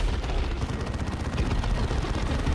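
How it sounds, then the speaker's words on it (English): Gunfire from Warhammer 40,000: Dawn of War II, a dense rapid rattle of shots with booming low-end impacts that runs on continuously at moderate loudness. "I could not have anticipated gunfire."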